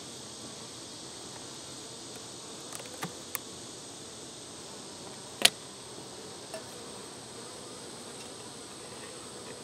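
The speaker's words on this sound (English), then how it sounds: "Okay, we got some bees on it." Honeybees on a frame from a double-deep five-frame hive give off a steady, soft, close buzz, broken by a few faint ticks and clicks.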